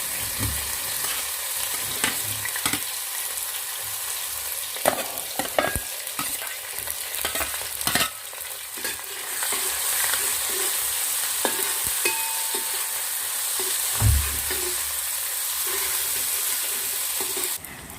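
Crushed ginger, garlic and green chilli sautéing in a pan for duck curry, with a steady oily sizzle and intermittent spatula scrapes and taps, up close over a long stretch.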